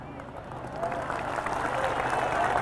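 A congregation at an Islamic sermon breaks into applause, a dense clatter of many hands that swells slightly and holds steady under a murmur of voices.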